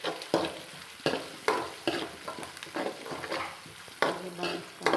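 Onions sauté in a hot pan for lemon rice, a steady sizzle broken by repeated scraping stirs of a spatula at an irregular rhythm, close and clear with no talk.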